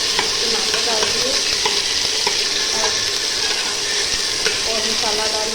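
Cumin and tomatoes fry in a pan of oil, giving a steady, close sizzle with scattered crackles and stirring scrapes throughout.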